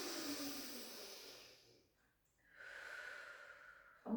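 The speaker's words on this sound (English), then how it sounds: "Take a breath in." Breathing during a pilates shoulder and bicep stretch: a long airy exhale that fades, a pause, then a steady drawn-in breath ending in a short sharp sound, close and alone.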